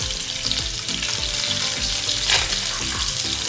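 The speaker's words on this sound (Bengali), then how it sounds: "এটা আমি প্যান ফ্রাই করতেছি" A barramundi fillet pan-frying skin-side in a very hot pan gives off a dense, steady sizzle and crackle, loud and close, with low scraping bumps of the pan throughout and no talking.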